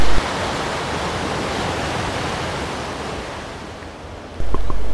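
Water rushes through a Francis turbine at a hydropower plant on the Traunkanal in Linz, each turbine fed 55,000 litres per second, making a loud, continuous, broadband roar that dips slightly before swelling again.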